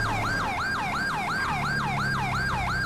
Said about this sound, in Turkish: Sireni çakalım şurada abi.